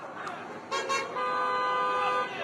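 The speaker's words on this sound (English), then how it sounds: "Celebratory honking here galore, right and left." Celebratory car and pickup truck horns honk outside a courthouse after a murder verdict, a couple of short toots followed by a sustained blaring horn, moderately distant over street noise.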